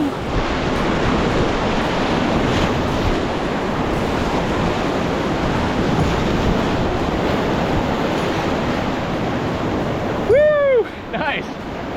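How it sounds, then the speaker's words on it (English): Rushing Class 3 river rapids during a packrafting run, a loud, steady broadband roar of churning whitewater that fills the clip, with a brief shout rising over it near the end. "Christian's about to try her first Class 3 rapid"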